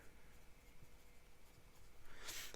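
A 14 karat gold medium fountain pen nib writing on paper, giving faint, close scratchy strokes in a quiet room, with a brighter scrape near the end.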